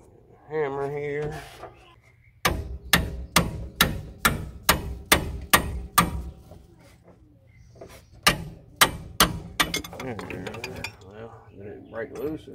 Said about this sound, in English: Hammer here.